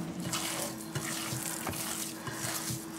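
Ground meat is squished and stirred by hand with seasonings for Greek-style gyro burgers, a soft, wet, continuous mixing sound close up and fairly quiet, with no talking.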